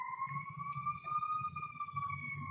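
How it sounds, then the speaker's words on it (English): A fire truck siren passes outside an apartment, a steady rising and falling wail heard from indoors at moderate distance, with low rumbling murmur underneath. "That is definitely a fire truck"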